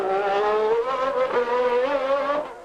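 Formula One race car at a 1990 Australian Grand Prix practice session, sliding out of a corner with a loud, close, buzzing engine note that wavers and shifts pitch as it powers away, fading slightly at the end.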